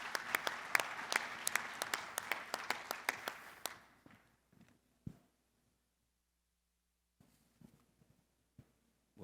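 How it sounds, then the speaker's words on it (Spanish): A short burst of audience applause for a speaker at a mining conference, sharp claps fading out within about four seconds, followed by near silence and a few isolated late claps. "Un aplauso para él, por favor."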